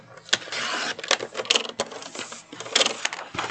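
A paper trimmer slicing through a sheet of paper, close up, with sharp clicks and a scraping blade pass repeated in short bursts, no voices.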